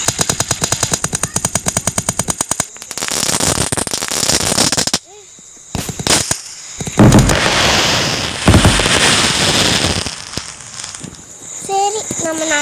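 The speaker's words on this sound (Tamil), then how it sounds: "Wind fire wheel." A wind fire wheel firework at a Diwali celebration, opening with a rapid string of crackling bursts, then loud hissing, spinning and popping. Sharp bangs follow, separated by brief pauses, with a voice faintly heard near the end.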